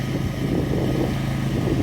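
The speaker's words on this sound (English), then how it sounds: "treat myself to a new generator." A new portable generator on an allotment runs steadily in the background, a continuous low droning rumble with wind noise and no breaks.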